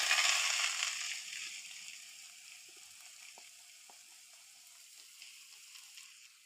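Chopped banana flower and onion with salt being stirred in a pan, a faint hissing sizzle that fades after the first second, with a few soft scraping touches of a spoon.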